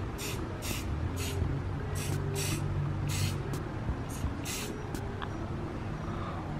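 Aerosol spray paint hissing in short bursts of about half a second, repeated nine or ten times, used to mark a cut area on metal for a custom transmission crossmember on an LS-swapped S10 Blazer, over a steady low rumble of shop background noise.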